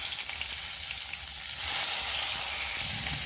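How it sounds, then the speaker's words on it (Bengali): Tomato goes into a pan of frying ginger for a cucumber dal, setting off a loud, steady sizzle that swells sharply halfway through and then holds at a strong, continuous hiss. "এবার দিয়ে দিচ্ছি টমেটো।"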